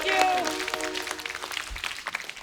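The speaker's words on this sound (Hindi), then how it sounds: "और एक बार जोरदार तालियां वंस अगेन" Studio audience applause on a TV comedy show, The Kapil Sharma Show: a brief burst of clapping, loudest at the start, mixed with a voice and tonal sounds before thinning out.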